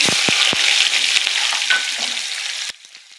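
Onion dropped into hot oil with mustard seeds and cumin crackles loudly in a dense, close sizzle punctuated by popping seeds, then cuts down abruptly to a faint hiss near the end.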